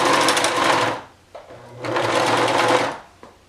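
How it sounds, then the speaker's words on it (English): A home sewing machine stitches around all four edges of a piece of fabric in two close, steady bursts of rapid whirring, with a short quiet pause between them. "just take off sewing, and we're going to sew around all 4 edges"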